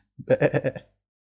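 A goat bleats once in a short, wavering call of several quick pulses, close and clear against silence.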